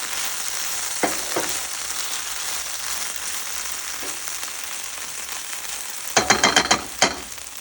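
Okra cooking with yogurt in a pan over a flame, a steady soft sizzle running throughout with a few sharp clinks and scrapes of a utensil stirring near the start and a burst of scraping toward the end.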